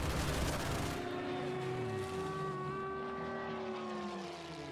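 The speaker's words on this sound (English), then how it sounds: "What was that noise? Artillery bombarding ours." Artillery bombardment in the WWII strategy game Order of Battle: Blitzkrieg, heard as dense rumbling booms with overlapping tonal whine, loud and continuous throughout.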